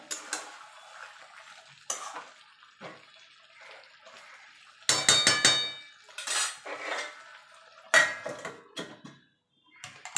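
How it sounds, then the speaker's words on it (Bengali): Chicken pieces stirred in a cooking pot over low-to-medium gas heat, with a spoon scraping and clanking against the metal in irregular bursts and brief pauses, close and fairly loud, with no talking. "দেখুন বন্ধুরা মাঝে মাঝে কিন্তু নেড়ে দিতে হবে না হলে কিন্তু তলা থেকে লেগে যেতে পারে"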